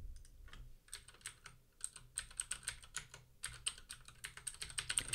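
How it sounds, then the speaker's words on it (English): Quick, uneven clatter of keys as a username is typed on a computer keyboard, close and crisp with short pauses between bursts, no voices. "type in a username."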